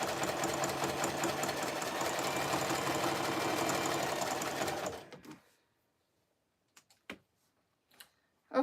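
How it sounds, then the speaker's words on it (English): A sewing machine stitches fabric strips for a jelly roll rag rug, running loud and steady for about five seconds before stopping, followed by a few faint clicks and light handling noises. "This fabric is actually sewing super nice"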